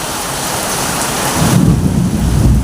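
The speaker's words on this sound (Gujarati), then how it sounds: "બીક લાગે એવી વીજળી." Heavy rain pours steadily during a fierce thunderstorm over a factory yard, then a deep, loud roll of thunder swells up about halfway through and rumbles on to the end.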